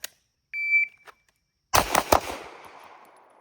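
Gunshots ring out in a shooting drill on a range: a loud close rapid string of about three sharp cracks with a decaying tail, preceded by a short electronic timer beep and a faint click.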